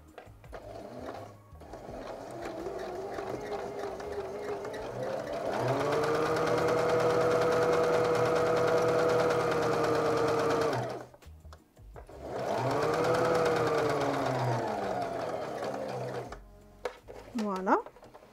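Sewing machine running in two long stitching bursts as a second parallel seam is sewn 1 cm from the first, a steady whirring hum broken by a short pause, with talk around it.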